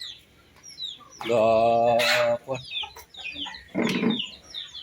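Chickens cluck and squawk nearby, one drawn-out call followed by scattered clucks and a rough squawk, with faint bird chirps behind.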